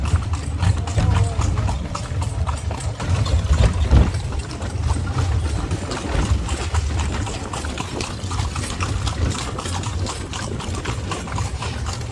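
A horse pulls a carriage through the streets of Edfu, Egypt, its hooves clip-clopping in a steady rhythm amid engine and street noise, with people talking over it.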